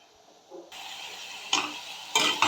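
Spices frying in a pan with Kashmiri chilli powder, a soft hiss that starts abruptly, then brief louder scraping bursts from stirring, quiet and close.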